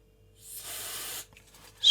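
AeroClean cleaner sprayed from a can onto potentiometers during repair of a Heathkit V-7AU meter: a single short hissing burst of about a second, close by, followed by faint handling noise.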